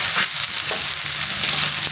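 Chopped onion and green chili frying in a pan for a Bengali egg omelette curry, a steady dense sizzle with faint stirring, heard alone and close.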